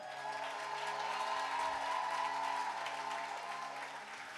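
An audience in a hall during a French-language sermon breaks into steady applause, a continuous close wash of clapping that holds level for several seconds before easing slightly.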